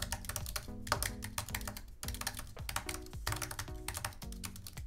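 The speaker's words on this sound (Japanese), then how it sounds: "キーボードを押すときの音ですけれども、" Rapid, close typing on an Apple Magic Keyboard: a steady stream of light plastic key clicks and taps with irregular rhythm, shallow and slightly flimsy.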